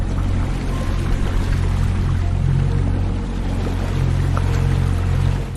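A ferry's hull slices through sea waves, making a continuous rushing, churning wash of water over a low engine rumble. It is steady and close throughout, with no voices.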